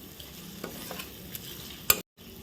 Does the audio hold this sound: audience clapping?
no